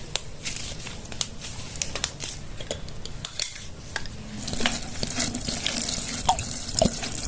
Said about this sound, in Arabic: وبعدين تجيبي ماء الورد تسكبيها في العود،